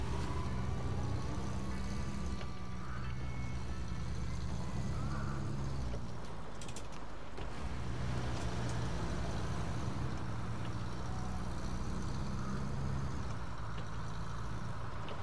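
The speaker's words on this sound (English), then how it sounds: "Oh, that truck's still running." A truck engine idles steadily in the video game SnowRunner on PS4 Pro, a constant low rumble that stays even throughout with no talk over it.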